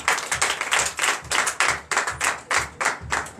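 A church congregation applauds during a Sunday worship service in Comè, Benin, with rhythmic bursts of clapping in a steady beat, loud and close, with no talking.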